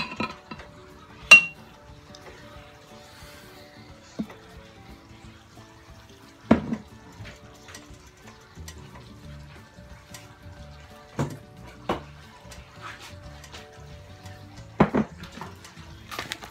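Metal pot clinks and clanks as it is handled and set on a kitchen stove while cooking green beans, with sharp separate knocks scattered through a quiet room and no talk.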